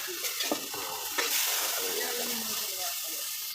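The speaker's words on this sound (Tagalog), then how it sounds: "Gisa na tayo ng bawang." Garlic sautéing in a frying pan for pakbet, a steady bright sizzle close by with a few light stirring scrapes.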